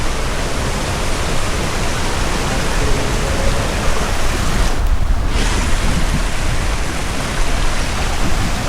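Strong wind blows near the Curug Cibeureum waterfall, mixing with the falling water and spray into a broad, loud, continuous rushing roar. It briefly drops for a moment midway, then resumes at full strength.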